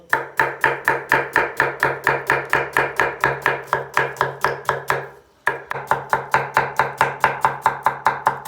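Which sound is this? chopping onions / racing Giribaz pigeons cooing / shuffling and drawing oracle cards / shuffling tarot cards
chopping onions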